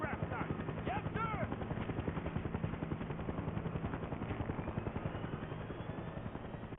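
Rotor blades of a military helicopter thump in a fast, steady rhythm in the iOS version of Battlefield: Bad Company 2, loud and constant, with bursts of gunfire and faint whistling tones mixed in.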